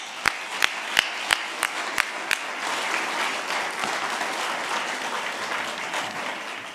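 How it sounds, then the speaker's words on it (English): An audience at a conference in Yerevan, Armenia breaks into applause as a speaker walks on stage, starting with a few sharp separate claps that quickly swell into steady, sustained clapping from a large crowd. "So please, I wonder if you could applaud as he comes on, Ruben Vardanian."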